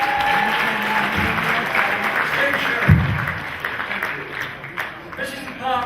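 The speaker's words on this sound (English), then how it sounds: "Give him a round of applause." An audience at a British country music hall of fame award ceremony claps for an inductee; the applause runs throughout and is mixed with a voice and tonal sound, swelling briefly in the middle before thinning toward the end.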